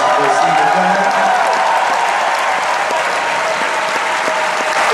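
A large crowd at New York Comic Con 2015 applauding the cast and crew of Ash, a loud sustained wash of clapping with scattered cheers throughout.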